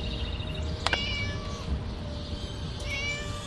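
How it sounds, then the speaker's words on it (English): A locked-up cat in the video game Scary Teachers meows a couple of times, clear, close and alone over a faint ambient hiss. "Shut up, you silly cat."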